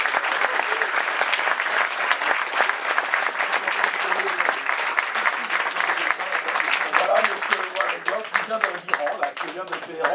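An audience at a conference applauds in a dense, sustained wash of clapping that stays loud for the whole stretch, with voices mixed in.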